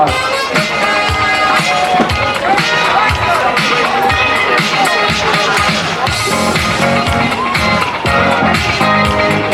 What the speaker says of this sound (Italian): On a le plaisir d'entendre vos applaudissements retentir